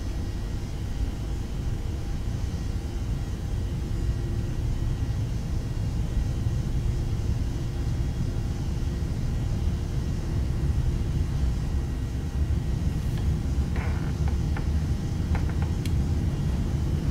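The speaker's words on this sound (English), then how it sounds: "Oh, that's a nice engine noise." Airliner engines at full takeoff throttle in the X-Plane 11 flight simulator make a steady, loud, broadband roar and rumble that holds evenly throughout, with a few faint clicks and tones near the end.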